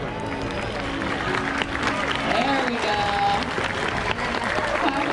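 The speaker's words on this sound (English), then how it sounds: "you have to help me give them a big round of applause" Audience applause in the stands at a SeaWorld San Diego killer whale show, a steady broad patter of clapping and crowd noise running throughout with an announcer speaking over it.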